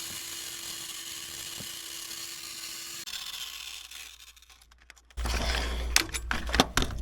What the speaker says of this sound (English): Using this right angle Dremel tool and these grinding burrs